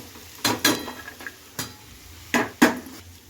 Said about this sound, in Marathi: तर भेंडी छान अशी परतून घेतली